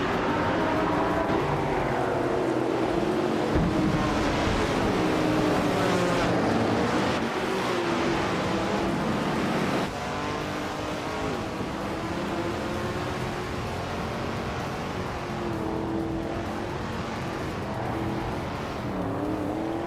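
Engines roar as race cars start at Monaco Vintage in a video game race, led by a classic 1971 Plymouth Roadrunner muscle car, a dense, steady, loud drone of multiple engines throughout with a slight drop halfway.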